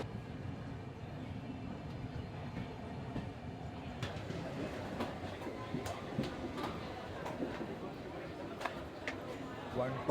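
A crowded passenger train running from Mumbai toward Thane clatters along the rails with a steady rumble and repeated sharp wheel clicks, while voices murmur faintly in the carriage.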